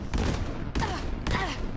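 Explosive shotgun blasts from a high pellet-count weapon in Borderlands 3 go off three times in steady succession, each a loud crackling burst of many small detonations close up, with no talking over them.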